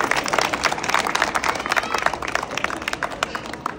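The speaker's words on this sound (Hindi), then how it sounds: "इंदर के लिए तालियां हो जाए।" A crowd claps in dense, lively applause, many hands at once, close and continuous throughout.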